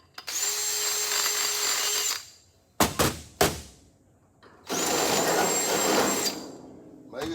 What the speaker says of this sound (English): I'm gonna drill this one out.